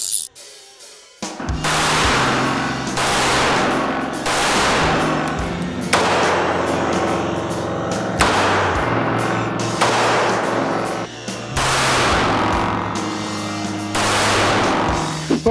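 A Ruger LCR .22 Magnum revolver fires several sharp, loud shots at a steady pace, each one followed by a short ringing decay.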